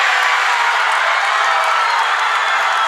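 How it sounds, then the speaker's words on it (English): A home crowd at a girls' high school basketball playoff game cheers loudly and steadily right after the final buzzer, a dense continuous roar of voices with scattered clapping filling the gym. "The crowd cheers for their home team."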